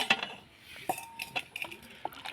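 A metal spoon stirs and scrapes inside a pot of chicken curry with hot water added, with irregular clinks and knocks against the sides, close and moderately loud.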